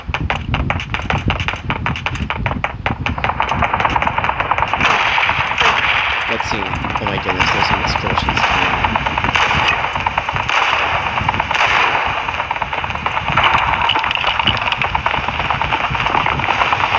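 Rapid gunfire in the ZOZ Final Hour shooter game, with bursts of automatic fire and sharp repeated shots crackling loudly and nearly nonstop over a busy background.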